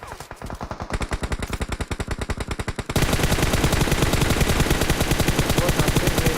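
Rapid automatic gunfire in the video game PUBG Mobile, long bursts of evenly spaced loud shots, one burst giving way to a denser, louder stream.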